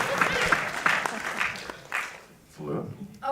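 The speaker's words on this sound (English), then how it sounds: "That gets a clap." Audience applause at a film festival Q&A after a boxing-themed screening, a burst of clapping with talk running over it, then fading before a voice picks up.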